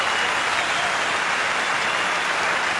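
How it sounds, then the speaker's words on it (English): A cricket crowd applauds in a steady, dense wash of clapping that holds at an even, fairly loud level from start to finish, with no voices over it. "Great burst of applause."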